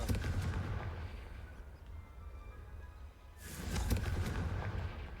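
A Confringo blasting-spell explosion in the Hogwarts Legacy video game, heard as a dense continuous rumbling roar that swells into a louder blast partway through, with no voices.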